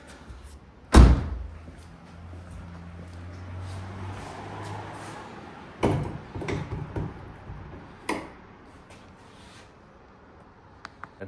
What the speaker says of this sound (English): pop the hood up